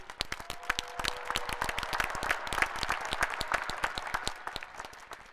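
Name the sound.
graduation ceremony applause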